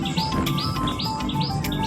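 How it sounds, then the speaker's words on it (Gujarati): A large flock of birds near the Nadabet border area in Gujarat chirps in quick repeated high tweets, several calls overlapping in a steady rhythm against a constant low background hum. "પક્ષીઓ બહુ વધારે છે અહીંયા."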